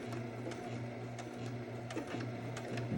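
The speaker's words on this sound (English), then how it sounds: "now we're coming back, top stitching along there, right to that corner" A sewing machine top stitches along the edge of a fabric filter-pocket mask, running in a steady mechanical hum with rhythmic needle clatter and short pauses, close and continuous with no talking.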